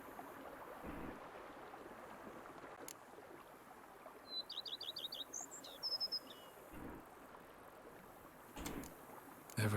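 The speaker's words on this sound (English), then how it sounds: "Bees buzzing, birds chirping." Birdsong in The Witcher 3, a short, faint trill of rapid chirps followed by a couple of brief whistles over a quiet outdoor ambience with soft rustling.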